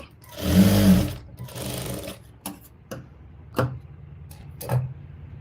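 A sewing machine runs a double stitch along a blouse shoulder seam: one loud sustained burst, a second shorter run, then several brief ticking pulses as it reverses and restitches.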